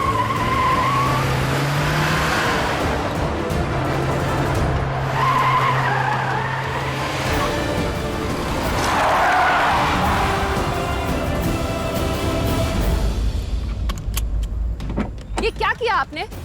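A car skids with long, loud tire screeches that rise and fall over several seconds, close and harsh, ending in a rattling clatter as the vehicle stops.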